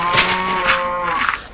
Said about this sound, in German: Oh mein Gott, die Kühe.